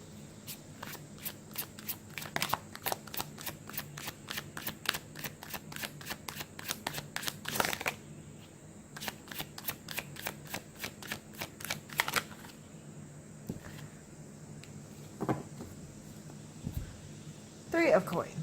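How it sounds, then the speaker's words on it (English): Tarot cards are shuffled in quick rhythmic riffling bursts that come in repeated runs, with a few separate taps and slaps after them, close and fairly soft. "I just can't shuffle today."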